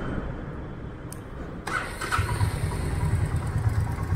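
A Royal Enfield Meteor 350 motorcycle fires up partway through, then settles into a steady, close, low idle thump that runs to the end, with no talk over it.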